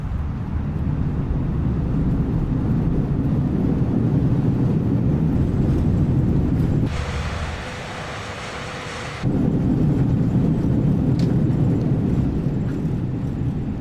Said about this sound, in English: All right, reverse thrust.